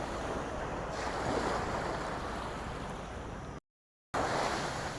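Sea waves washing in at the Praia da Oura beach cove in Albufeira, a loud continuous surf wash heard close by with wind buffeting the microphone and a brief dropout near the end.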